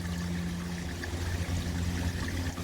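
Antifreeze running from a tank through an opened valve on a Vactron vac trailer, a steady close pouring, rushing flow.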